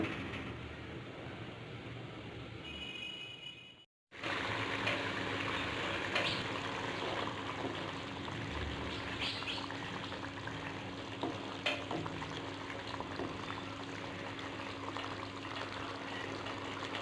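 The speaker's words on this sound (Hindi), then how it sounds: "इसको तकरीबन 5 से 10 मिनट मज़ीद पकने देंगे हम कवर करके" A covered pot of aloo anda curry, a potato and egg curry, simmers with a soft, continuous bubbling sizzle, broken by a brief dropout near the start and then steady to the end.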